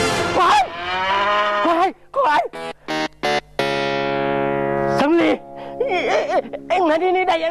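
A water buffalo moos loudly and close by in several drawn-out calls, one sustained low bellow dominating the middle, with a strong tonal, electronically processed quality.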